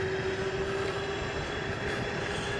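QLife Spark D2 moped-style electric bike with 16x4.0-inch tires accelerating up a hill: a steady, loud motor whine with a sustained tone, over continuous wind and road rumble, with no talking.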